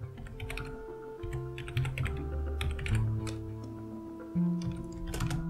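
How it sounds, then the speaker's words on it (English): Someone types a Linux command on a computer keyboard, a quick run of close, crisp key clicks in an uneven rhythm over a steady electronic hum. "I type ls with option l and I name the directory not present."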